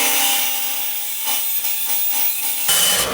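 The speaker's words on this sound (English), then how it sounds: "So I'm going to trim this off on the bandsaw first" A bandsaw cuts through a wooden root burl with a steady rasping, grinding drone that holds for a few seconds, then shifts and roughens as the blade finishes the trim.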